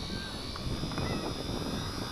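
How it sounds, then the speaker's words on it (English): A small WLtoys V931 six-channel 3D RC helicopter flying outdoors gives off a continuous high-pitched electric motor whine and rotor buzz at a steady level, heard at moderate distance. "I'm flying in an area where I can fly below myself."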